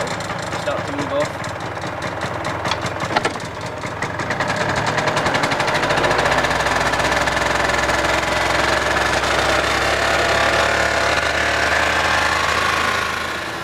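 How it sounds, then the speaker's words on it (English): A Peugeot Speedfight scooter engine revs hard in a loud, rattling buzz that builds after a few seconds and holds steady near the listener, with people talking over the opening part. "Give it too much rev, it'll start to move off."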